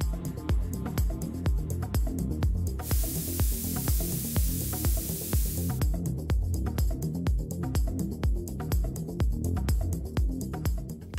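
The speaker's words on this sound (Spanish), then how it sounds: "Luego purga las mangueras antes de liberar la presión con el tornillo de ajuste." Gas hisses out as oxy-fuel torch hoses are purged, a bright broad burst lasting a few seconds over a repeating mechanical ticking background, close and steady with no talking.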